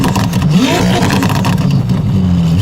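A Ferrari 296 GTB fitted with a complete Novitec race exhaust system revs hard and close, its engine note sweeping up and down loudly and continuously with no talking.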